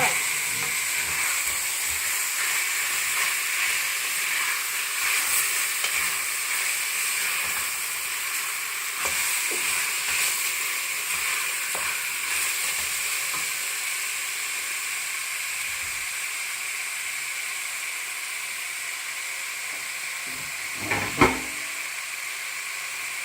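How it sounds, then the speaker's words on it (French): Veal pieces sauté in a pan for a rice and plantain dish, giving a steady close hiss and sizzle throughout, with a few faint stirring scrapes and a brief clatter near the end. "On fait revenir."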